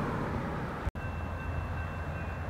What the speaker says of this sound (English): This will be a loaded steel coil train over in Erlanger.